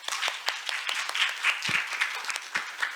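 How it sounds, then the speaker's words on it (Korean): An audience at the 2021 Jeju Forum applauds to welcome a speaker, with moderate, scattered clapping from a modest crowd in a hall, individual claps audible in a steady patter throughout. "우리 로버트 칼린 선생님 박수로 환영해 주십시오."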